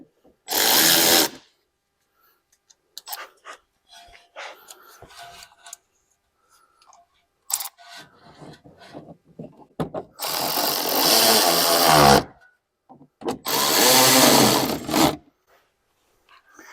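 Power drill driving two screws into a BMW X5 during a windshield washer tank and pump replacement, heard as three loud whirring bursts of a second or two each, separated by quieter clicks and handling noise.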